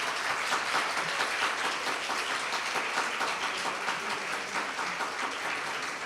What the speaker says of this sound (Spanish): les pido un aplauso para Flavio